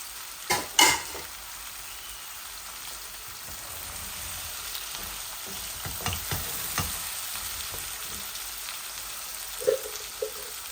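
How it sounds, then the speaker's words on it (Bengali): Red onions and potatoes frying together in a pan give a soft, continuous sizzle, with a few louder clatters and scrapes from stirring at the start and near the end. "এই আমি অনিয়নের সাথে আলুগুলাও দিয়ে দিচ্ছি, একসাথে ভাজা ভাজা হয়ে যাবে।"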